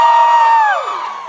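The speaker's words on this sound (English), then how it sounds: "If you're a social scientist in here, scream loud" Debate audience screaming, whooping and cheering together in a loud sustained crowd roar that fades slightly toward the end, with no distinct speech.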